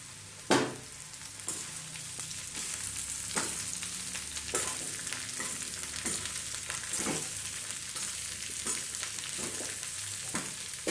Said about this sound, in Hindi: अब हम इसमें शिमला मिर्च डाल देंगे।